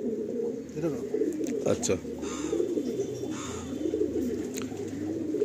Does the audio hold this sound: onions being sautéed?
no